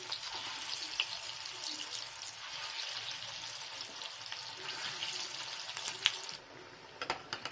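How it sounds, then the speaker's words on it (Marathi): Kothimbir vadi, coriander fritters, frying in hot oil in a kadhai, a steady faint sizzle with occasional crackles. "तेल आपलं गरम झालंय आता आपण या वड्यात तळून घेऊया"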